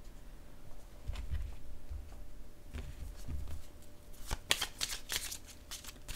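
A deck of tarot cards is handled close by, with soft rustles and slides and then a quick crisp shuffle of riffling snaps near the end. No voices.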